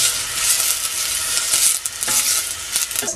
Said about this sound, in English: So I'm just heating up some olive oil now, and then I'm going to fry some onions.